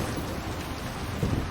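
Steady rain with a low rumble of thunder inside a barn in Kingdom Come Deliverance 2, a dense continuous hiss with a brief swell toward the end.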